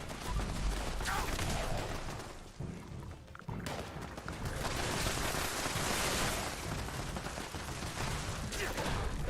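Turrets firing in Fallout 76 rattle off dense, continuous bursts of gunfire, loud and close, with a brief lull midway before the barrage resumes.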